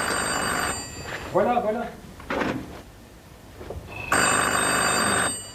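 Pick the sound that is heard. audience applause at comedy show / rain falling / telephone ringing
telephone ringing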